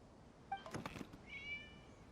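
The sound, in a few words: cat meowing in Genshin Impact video game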